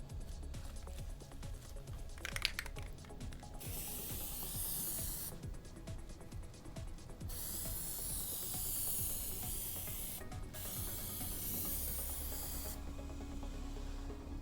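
A spray paint can hisses in several bursts while painting costume armor, starting and stopping with short pauses, close and fairly quiet.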